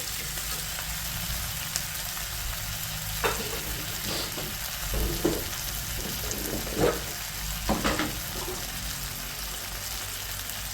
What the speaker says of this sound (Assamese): মছলাখিনি দি অকণমান লাৰি দিওঁ এনেকৈ ফ্ৰাই কৰোঁ